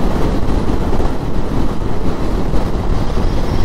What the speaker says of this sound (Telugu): ట్రైన్ చూడండి, లోడ ట్రైన్ ఉంది